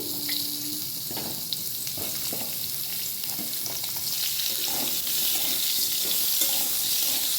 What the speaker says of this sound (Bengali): তেলটা গরম হয়ে গেছে আলু আর পেঁপেটা ভেজে নিচ্ছি